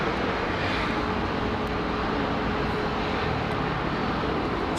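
A Qatar Airways airplane at London Heathrow Airport gives off a loud, constant engine roar that holds steady throughout.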